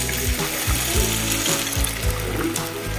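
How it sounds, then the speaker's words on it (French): Broth pours into a pan holding cauliflower mushroom, a steady liquid splash with faint rhythmic knocks in the background, near and fairly loud. "Maintenant, on va ajouter notre bouillon."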